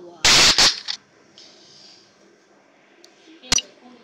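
Gunfire in the mobile game Free Fire Max: a loud quick double burst of shots near the start, then a single sharp shot later, with quiet game ambience between.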